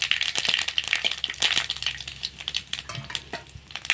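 Dried red chillies and cumin seeds frying in hot oil for a chicken dish, a close, crackling sizzle with busy popping and scraping stirs throughout, no speech.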